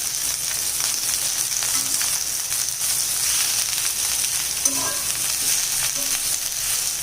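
Ridge gourd peel frying in a hot pan for a chutney, a steady close sizzle running throughout with a few faint stirring clinks and no voices.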